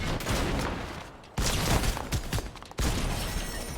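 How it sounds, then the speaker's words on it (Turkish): Weapon in Fortnite firing three bullets per trigger pull, giving clustered bursts of close, loud shots with short gaps between them and no talking. "3 mermi birden sıkıyor bu arada dediğim gibi"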